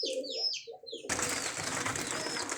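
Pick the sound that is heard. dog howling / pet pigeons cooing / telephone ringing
pet pigeons cooing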